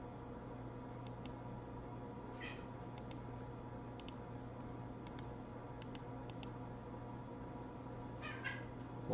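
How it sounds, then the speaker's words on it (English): A house cat whines and meows while roaming indoors. Faint, intermittent cries come from a distance, repeating several times over a steady low hum, with no talk. "My cat's currently whining and chasing something around the house."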